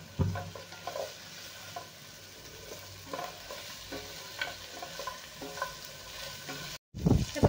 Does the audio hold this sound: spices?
yes